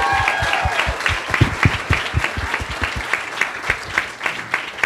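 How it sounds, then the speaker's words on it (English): An audience at a Nerd HQ 2011 celebrity charity panel gives a round of applause: dense, steady clapping with several distinct, sharp close claps standing out. "give yourselves a round of applause for that."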